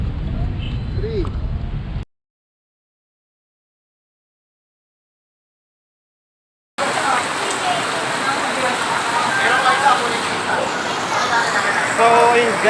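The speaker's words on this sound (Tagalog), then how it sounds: "biglang bumuhos ang ulan" Sudden heavy rain pours down on an outdoor tennis court, a dense steady hiss of drops that fills the scene after a short gap of silence, with a brief bit of background noise at the very start.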